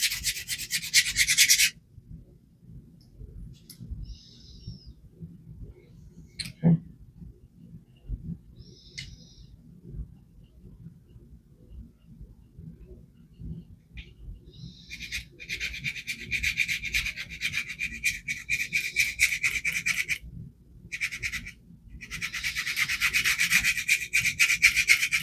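A poorly heat-treated knife edge is ground on a worn diamond plate, cutting in a plunge line: a short burst of gritty scraping, a long quiet stretch, then sustained rhythmic rubbing strokes with brief pauses, close and fairly loud.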